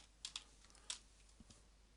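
Very quiet clicks from a computer keyboard come in a few scattered, uneven keystrokes close by, with no talking.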